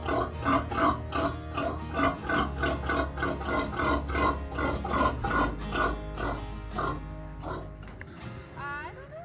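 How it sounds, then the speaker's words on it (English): A pig grunts and squeals in a rapid, repeated run of close, loud calls while being loaded for transport on a homestead, the noises fading out near the end. "The absolute easiest pig loading for the absolute best pig alive."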